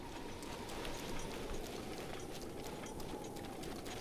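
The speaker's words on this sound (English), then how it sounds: "A lot of rain here on the beach today." Steady, dense rain hisses evenly on a beach in The Legend of Zelda: Breath of the Wild, a constant wash of patter with no voices.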